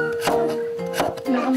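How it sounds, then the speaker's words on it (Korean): A kitchen knife chopping food on a cutting board, two quick knocks about a second apart, close and clear with a child's and a mother's voices faintly mixed in. "칼질을 하면서도 진윤이가 놀 공간을 만들어내다니 과연 대단한 엄마다"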